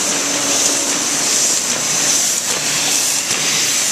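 Steady, loud hiss of air blowing from the pump of a Ryobi 3302H two-color printing press, continuous and even throughout with slight surges, no voices.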